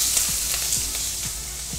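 Onion fries in a hot pan as pork chops are being cooked, making a loud, steady, hissing sizzle with a few faint scrapes and taps, close by and with no talking.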